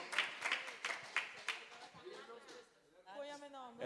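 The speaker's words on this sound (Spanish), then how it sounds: "nós vamos dar um aplauso, batimão para a Tura Romana" An audience applauds for Tura Romana at a worship gathering, with brisk rhythmic clapping over the first second and a half, followed by a voice speaking and singing.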